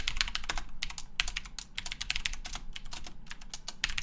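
Rapid, continuous typing on a computer keyboard, each key click crisp and close, with an uneven rhythm of bursts and brief pauses and no voices.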